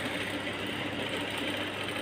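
An electric sewing machine stitches a saree fall, running as a continuous, even mechanical whir with a fast rattling needle rhythm, close and with no one talking.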